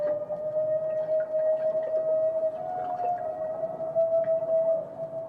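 Humpback whale hunting calls echo through an Alaskan strait, a long sustained tonal moan holding steady for several seconds over a low rumbling ocean background, with no talk.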